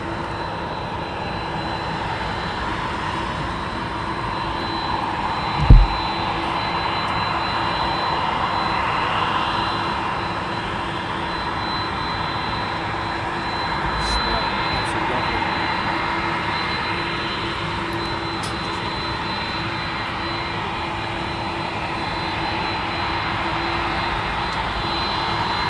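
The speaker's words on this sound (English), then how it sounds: "So we'll pan around to the next aircraft, taxiing up." Aircraft taxiing at East Midlands Airport, a steady broad engine roar holding at an even level throughout, with a brief sharp thump early on and no talk.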